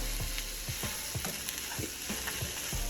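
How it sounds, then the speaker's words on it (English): Sausage sears in a hot pan for smothered okra with shrimp, giving a steady loud sizzle broken by repeated scraping stirs roughly every half second. "We want to make sure we get a nice sear on them."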